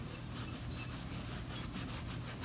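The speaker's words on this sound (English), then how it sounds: "You can start scrubbing." A brush scrubs brake dust off a car wheel in fast, rhythmic back-and-forth strokes, close and fairly even in loudness, with no one talking.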